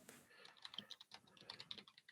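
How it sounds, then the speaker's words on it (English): Faint, quick keystrokes clatter on a computer keyboard in an irregular run of light taps, quiet and alone. "Bintak, are you typing?"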